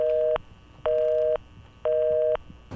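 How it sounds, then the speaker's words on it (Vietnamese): A mobile phone ringing with three loud, identical electronic tone bursts, each lasting about half a second and separated by short gaps, with no voices. "Điện thoại của con mà."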